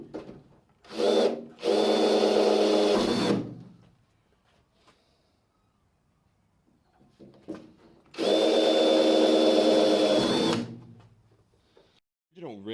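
A power drill fitted with a 3mm bit whirs in two bursts of a couple of seconds each, close and loud, with quiet gaps and a short spoken phrase between them.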